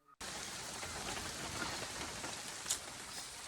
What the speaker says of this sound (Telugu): జస్ట్ అలా స్టార్ట్ అయ్యాము, వాన వచ్చేసింది.